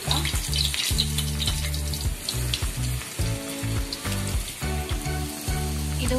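Wheat flour banana fritters (pazham pori) frying in oil over a medium flame, a continuous bubbling sizzle with a rhythmic low rumble and occasional clinks.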